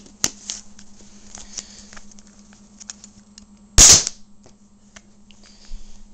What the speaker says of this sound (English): I'm shooting it at this cardboard right there, and let's shoot it.